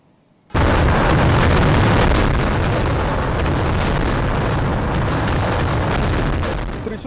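Thrissur Pooram fireworks in Kerala, traditional temple-festival pyrotechnics, erupt in a loud, continuous roar of dense overlapping blasts and crackles that start abruptly and sustain without pause.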